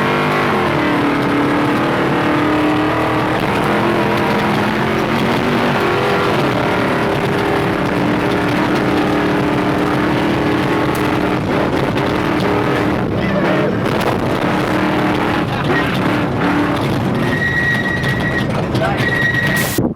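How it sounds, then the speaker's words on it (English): A Prerunner off-road truck driving hard across the Cal City desert, its engine roaring loud and steady from inside the cab with rattles and bumps toward the end, and people talking over it. "I'm gonna take you guys along with me in this truck here, and we'll see, give you guys a little taste of what it's like to hit a decent sized jump in a Prerunner"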